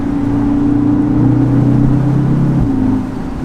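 An Audi TTS 310 Roadster engine revs hard and steady, then its pitch drops abruptly near the end as a paddle shift cuts in. The engine is loud and close, with no voices.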